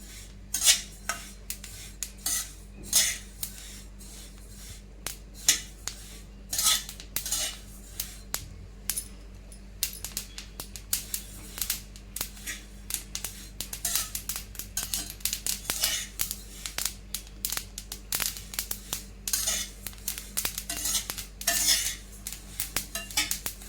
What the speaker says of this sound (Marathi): तीळ पण चांगले भाजून घ्यायचे आहे